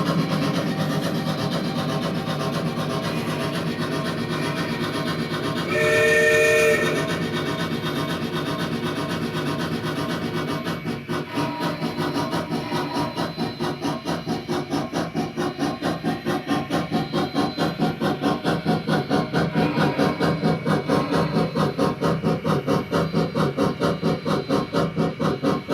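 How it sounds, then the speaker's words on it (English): A Kato Sound Box plays steam locomotive sound for a model train with steady, dense chuffing and mechanical rumble that quickens later, and a brief whistle-like tone partway through. "the output of the sound box actually depends on how the wheels themselves are turning"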